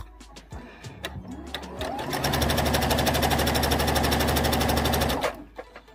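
A sewing machine runs a long gathering stitch at its largest stitch length, starting after a few soft clicks and handling noises, then a fast steady mechanical rattle for about three seconds before stopping abruptly.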